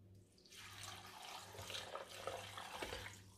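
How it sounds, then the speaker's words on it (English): Water poured into a blender jar while preparing a weight-loss drink, a steady splashing rush running for about three seconds with no talk. "So I'm going to add some water."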